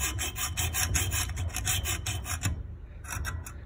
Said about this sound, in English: I'm now just working on sawing through.